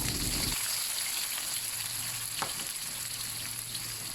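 Sliced onions fry in hot oil in a kadhai over a high flame, with a dense continuous sizzle and a faint clink partway through.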